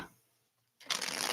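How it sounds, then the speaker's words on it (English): A Prism Oracle card deck is shuffled close by, a continuous riffling rush of cards that starts after a brief silence. "I saw the Prism Oracle as the main deck for our message today, so I'm shuffling that up."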